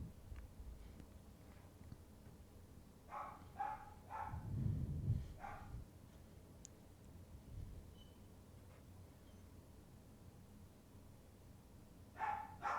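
An indoor dog barks in scattered, fairly faint bursts, a few yips clustered together and a couple of later barks, set against a quiet room.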